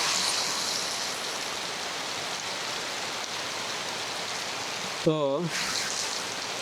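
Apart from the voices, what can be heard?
heavy rain falling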